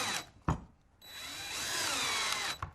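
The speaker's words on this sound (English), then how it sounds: "I'll drill the hole for the hinge on the other side." A power drill bores a hinge hole in a wooden cabinet door, with a brief whir, a pause, then a sustained high whine that winds down after a couple of seconds.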